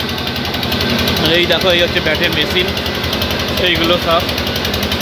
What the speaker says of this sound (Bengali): এই দেখো এই হচ্ছে ব্যাটের মেশিন